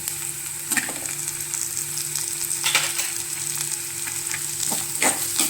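Onion, green chili, curry leaves and tomato fry for egg bhurji in a pan, a loud, continuous sizzling hiss with occasional spatula scrapes and taps, no voices.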